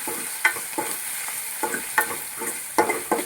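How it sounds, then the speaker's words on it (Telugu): Coriander goes into a hot tempering in a pan for tomato rasam, giving a steady sizzle broken by sharp clinks and scrapes of stirring at irregular intervals, close and clear with no voices. "తాలింపులోనే మళ్ళీ కొంచెం కొత్తిమీర వేసుకుంటున్నాను."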